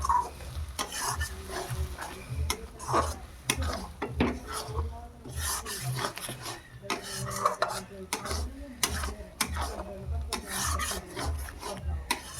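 A spatula scrapes and rasps against a pot as blended tomato is stirred into rui fish curry, with rhythmic metallic strokes over a low sizzle.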